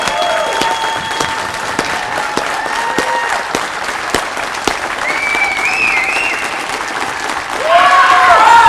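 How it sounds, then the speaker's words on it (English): Steady applause from an audience at an art exhibit and contest ceremony, dense clapping throughout and swelling louder near the end, with some crowd murmur. "Let us give her a big applause."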